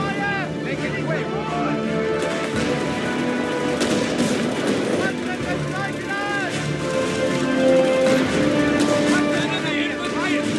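Enemy gunfire in a Company of Heroes 3 battle at Gazala in North Africa, rattling machine-gun bursts under a constant din of engines and combat noise, with radio-style unit voices throughout.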